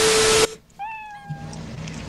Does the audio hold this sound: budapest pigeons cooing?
no